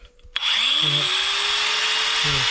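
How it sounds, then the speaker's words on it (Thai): Solar-powered electric drill or angle grinder in a longan orchard setup, starting abruptly and running steadily with a loud high whine, with brief voice sounds underneath. "ใช้งานสว่านหินเจียได้ครับ"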